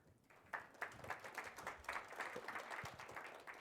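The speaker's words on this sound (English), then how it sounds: "let's give a round of applause for Samir." A modest audience at a talk on language models claps for a few seconds, a quiet, even scattering of applause that starts after a brief pause and fades gently.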